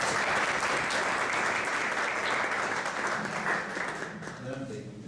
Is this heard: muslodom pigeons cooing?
no